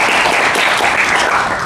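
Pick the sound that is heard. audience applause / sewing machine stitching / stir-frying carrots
audience applause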